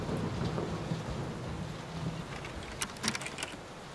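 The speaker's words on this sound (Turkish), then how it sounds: "Koş lan, yağmur yağıyor." Steady rain pours in the horror game Layers of Fear, a soft continuous hiss with a low distant rumble of thunder beneath and a few sharper crackles late on.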